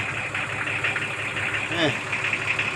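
An old motorcycle engine that has sat unused for a long time and needs its glow plug preheated catches and runs at a rough idle nearby, with someone speaking over it.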